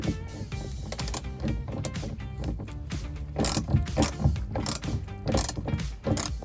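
Ratchet socket wrench turning out wheel well guard bolts on a 2005 Ford Ranger XL 2.3L, a rapid close series of clicking ratchet strokes in irregular bursts, with no talking.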